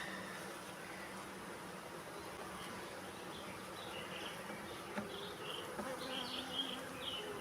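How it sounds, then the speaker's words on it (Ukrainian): A wild honey bee swarm, caught in a trap and moved into a hive, buzzes continuously at a low, steady level, with a few nearer bees passing by. "рамочок, але рамок на 6, а може і на 7. Гарний рій."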